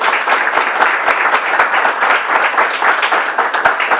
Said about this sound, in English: please, one more round of applause for our student ambassadors